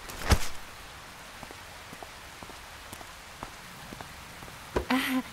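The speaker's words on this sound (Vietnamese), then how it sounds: "Thiệt là sao cứ mưa hoài vậy không biết nữa." Steady rain falls in an animated cartoon, a soft even patter with a few sharper drop sounds, two brief louder bursts at the start and end, no talking.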